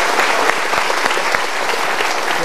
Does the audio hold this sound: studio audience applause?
yes